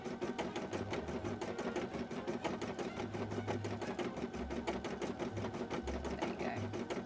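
A sewing machine runs steadily through a cosplay piece made on a beading and embroidery setup, its fast even needle clatter continuous and close, with low motor hum swelling at intervals and no talk over it.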